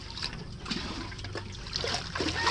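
Water flowing steadily from a strong spring in a shallow dug well, a continuous trickling, gurgling wash that stays close and fairly loud throughout.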